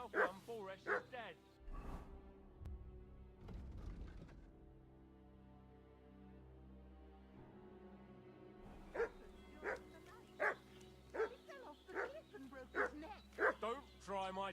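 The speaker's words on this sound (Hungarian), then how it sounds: "What's that dog making such a fuss about?" Dog in Kingdom Come: Deliverance II barking repeatedly in short sharp bursts, fairly close, with a quiet stretch in the middle and voices talking over parts of it.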